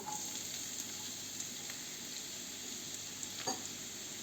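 Filling for stuffed peppers with potatoes starting to fry in a pan, a faint, steady sizzle with a soft scrape or stir near the end.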